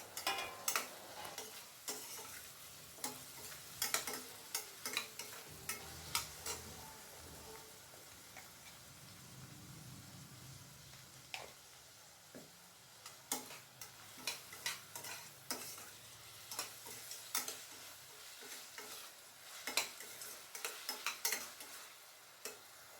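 Chopped tomatoes are sautéed in a pan for a radish and moong dal kootu, with a faint sizzle under repeated sharp spatula clicks and scrapes that come in irregular bursts, close but quiet.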